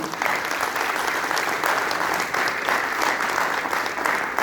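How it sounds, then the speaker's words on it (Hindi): Continuous applause from an audience at an evening professional gathering in Lucknow as a guest is welcomed, a dense, even roar of many hands clapping with slight surges, no talk over it. "लखनऊ की इस मधमस्त शाम में हम सुधांशु जी का स्वागत कर रहे हैं। तालियों की गड़गड़ाहट रुकनी नहीं चाहिए।"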